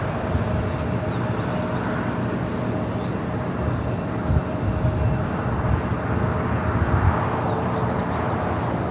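United 737-900ER jet airliner taking off from LAX's south side, a steady broadband engine roar heard from a distance, rising slightly toward the end, with no speech.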